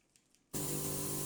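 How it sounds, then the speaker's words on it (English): A J-PEN S020 precision airbrush bursts into a steady, close, hissing spray after a short quiet start with a couple of soft clicks, and the fine, even stream continues to the end. "you can spray a very fine atomized pull line to better control the gradient line"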